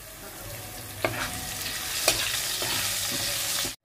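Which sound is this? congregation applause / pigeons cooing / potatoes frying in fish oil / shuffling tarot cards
potatoes frying in fish oil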